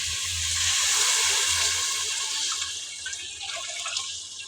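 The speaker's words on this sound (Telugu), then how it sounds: "అలాగే నీళ్ళు అయితే పోసేసిన" Water poured steadily into a pot of rice being made for bagara rice, a loud continuous splashing rush that holds for several seconds and eases slightly toward the end.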